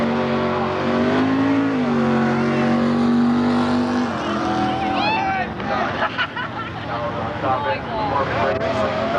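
Someone's championship C stock automatic (hydromatic) drag racing car runs at Milan Dragway during the 1992 High School Nationals, its engine droning and rising in pitch under an announcer's voice and crowd chatter.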